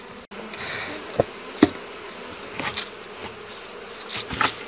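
Honey bees hum steadily around an open beehive, a continuous low drone broken by a few sharp knocks and clicks, with no talking.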